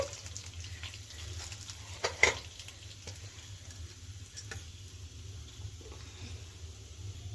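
Masala spices frying over a low simmer flame for a chicken gravy, a soft steady sizzle with a brief louder scrape or clatter near the middle, close and quiet throughout.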